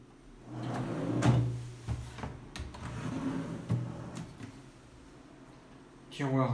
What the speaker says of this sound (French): Voilà le tiroir du haut.